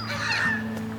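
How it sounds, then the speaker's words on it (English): Black-headed gull in winter plumage at a wetland reserve giving a single harsh, grating squawk lasting under a second, near and fairly loud. "This rather belligerent bird is a black-headed gull."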